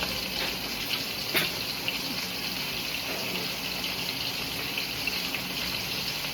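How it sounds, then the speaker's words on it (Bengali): Raw chicken rinsed under a running tap, a steady close gush of water splashing over meat in a basin, continuous throughout with faint clinks. "চিকেনটাকে ধুয়ে নিই।"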